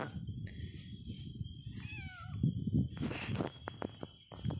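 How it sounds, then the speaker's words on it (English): A cat meows close by, a couple of rising and falling cries standing out over quiet rustling and shuffling movement. "I just figured it would be cool to show you guys my cats,"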